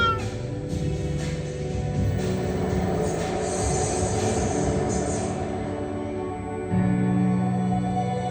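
A small train at the British Postal Museum rumbles along its narrow underground track, the steady carriage noise broken by wheel squeals and a shrill tone near the end.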